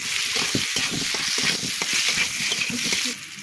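Papaya pieces fried in oil with turmeric powder and salt, a dense close sizzle with frequent stirring scrapes and knocks, easing off slightly at the end.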